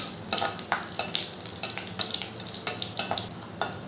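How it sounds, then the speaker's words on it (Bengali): Black cumin seeds and dry red chillies sizzle and fry in hot oil over a medium flame while being stirred, giving a steady close crackle punctuated by repeated sharp scrapes of the stirring spoon. "ফোড়নটা আমি নেড়ে চেড়ে ভেজে নেব"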